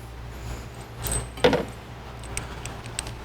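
Metal bolts clinking and rattling as they are handled during assembly of a Hellcat supercharger, a brief sharp jangle around the middle with lighter scattered ticks, close and moderately loud.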